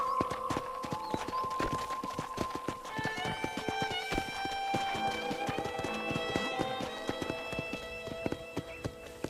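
Horse hooves clip-clop at a walking pace in the Western video game Red Dead Redemption, a steady run of light, even hoofbeats at moderate distance over soft music-like tones.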